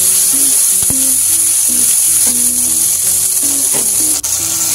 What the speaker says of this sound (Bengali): ভালো করে আমরা এতে ভেজে নেবো ভালো করে।